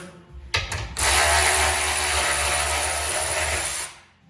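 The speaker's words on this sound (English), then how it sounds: "Spin it loose with a socket." A power tool whirs up with a socket to spin a nut loose on a motorcycle fender during a bagger build, a couple of short clicks then a sustained loud whine for about three seconds before winding down.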